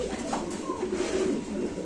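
Pigeons cooing softly at a pigeon market, low steady coos under a constant murmur of background noise.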